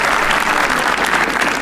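A comedy roast audience gives a panellist named Akash loud, dense, continuous applause. The clapping is close and full for the whole short stretch, with a faint hint of crowd noise.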